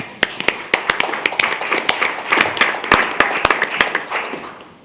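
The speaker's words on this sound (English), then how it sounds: "and I think they also deserve a round of applause." A small group at a school board meeting claps for retiring district employees, loud and close, with individual sharp hand claps clearly distinguishable in an uneven, lively rhythm.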